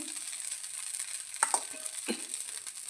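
A multigrain dosa cooks on a hot griddle with a small drizzle of oil, giving a faint, steady hiss broken by a few soft clinks and scrapes, with no talking.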